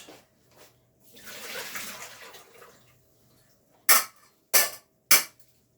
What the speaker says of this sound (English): Quick rinse. Drain it out.